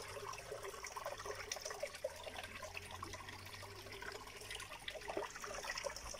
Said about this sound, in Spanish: cascadita, en realidad un chorrito de agua, ¿no? Que baja desde allá de arriba la cuchilla.